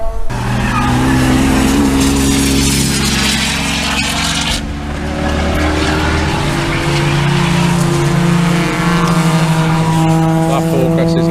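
A loud Ford Focus race car at the Castle Combe track roars close by with a sustained, droning engine note and shifting pitch, while people talk in the background.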